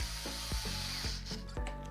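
A ratchet tightens a bolt during assembly of a Haoqi Antelope e-bike, giving several quick clicking strokes in an uneven rhythm, close and clear with no talking.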